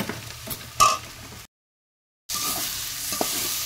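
Chili powder, turmeric and salt fry in hot oil for a shrimp curry, giving a steady sizzle with stirring scrapes and a sharp clatter near the start. The sound cuts out briefly midway, then the sizzle returns with more scraping.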